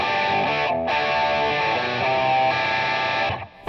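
Electric guitar played through a 1996 Line6 Axsys212 modeling amp with Rat distortion, a thick sustained distorted chord ringing loud and steady, with a brief dip partway through, then cutting off near the end.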